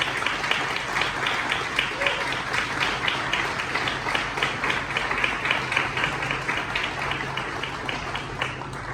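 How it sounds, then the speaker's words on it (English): Sustained applause from a large crowd at an awards ceremony, dense and even, continuing steadily without a break. "could we have a round of applause as well, please?"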